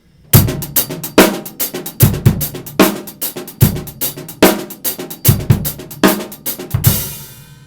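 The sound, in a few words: drum kit halftime shuffle played full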